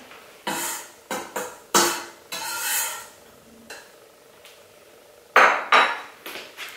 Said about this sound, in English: Now with a spoon just mix together all of the dry ingredients in the bowl.